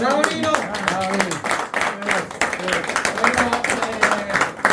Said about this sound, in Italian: Io farei un bellissimo applauso.